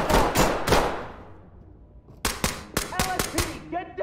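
Gunfire rings out in the Ready or Not tactical shooter: a few sharp shots, a short lull, then a rapid string of close, loud reports with ringing tails, like a burst of automatic fire.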